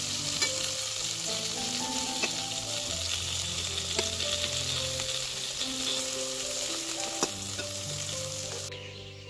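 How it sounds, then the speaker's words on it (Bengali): Sliced home-grown eggplant frying in a pan, a continuous crackling sizzle with occasional utensil taps and stirring, close and steady, with no voices. "আমি এখন সেই বেগুনগুলোকে ভাজছি"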